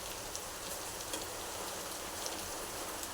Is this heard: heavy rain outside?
yes